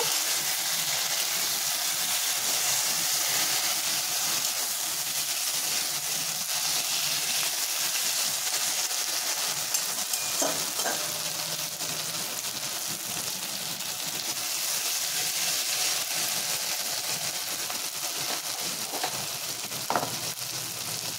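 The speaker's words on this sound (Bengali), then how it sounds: "চেরা কাঁচা লঙ্কাটা দিয়ে কিছুক্ষণ একটু নাড়াচাড়া করে নেব।" Two slit green chillies stir and sizzle in a pan for chilli chicken, a steady close frying hiss running throughout with a few faint spatula scrapes.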